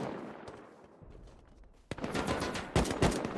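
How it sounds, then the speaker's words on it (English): Burst of AK assault rifle fire in the survival game Rust during a 6v6 tournament match, starting quietly then breaking into loud rapid automatic shots with a second heavier burst near the end. "seeing someone shoot this range used to be so impressive with AK"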